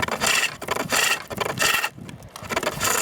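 A gouge cutting a wooden bowl on a pole lathe, repeated close, loud scraping passes in a back-and-forth rhythm with short pauses as the lathe reverses.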